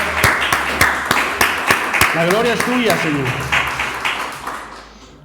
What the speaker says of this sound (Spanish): Yo creo que nuestro Señor se merece un aplauso.